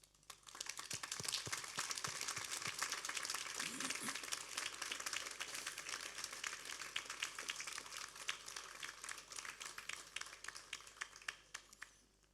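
Sustained applause from a graduation ceremony audience in a hall, dense steady clapping building quickly and holding for over ten seconds before tapering off.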